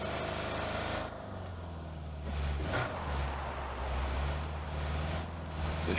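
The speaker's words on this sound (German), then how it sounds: "ich parke mal mein Auto hier so." A car in the PUBG video game drives and comes to a stop, its engine a steady low hum that drops and rises again, with wind-like noise over the top and no talking.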